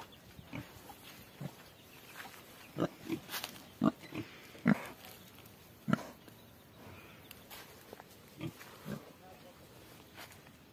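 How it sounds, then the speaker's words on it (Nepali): Pigs on a farm in a mountain village in Nepal give short, scattered grunts at close range, with several louder bursts mixed among people talking nearby. "कता छ सुँगुरहरू"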